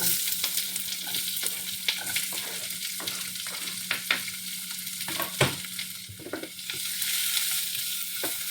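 Onion and green chili sizzle and fry in a pan for an Indian paneer dish. A steady sizzle runs throughout, broken by scraping stirs, with no talking.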